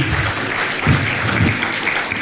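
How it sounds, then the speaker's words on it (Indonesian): A congregation at an evening prayer service claps together in a dense, continuous wash of applause, steady and fairly loud throughout with a few low thumps mixed in. "Tepuk tangan buat Tuhan Yesus dong"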